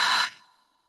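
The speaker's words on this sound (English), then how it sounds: "Open the mouth and exhale." A single soft breath exhaled through an open mouth during a guided breathing exercise, a brief airy rush that fades quickly into quiet.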